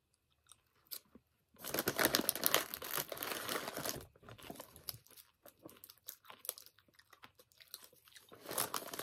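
Someone chews a small round piece of sour candy close up, wet crunching and crinkly mastication starting after a brief quiet, with a dense stretch of crunches followed by sporadic chews and pauses.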